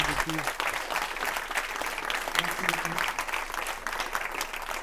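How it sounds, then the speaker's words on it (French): Audience applause at a comedy night club show, a steady dense wash of clapping from a full room lasting several seconds, with a few voices mixed in beneath it. "On peut l'applaudir, Jojo, qui a organisé tout ça"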